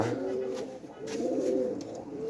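Pigeons in a backyard coop coo in low, rolling, repeated phrases at moderate distance, steady throughout with faint background rustle.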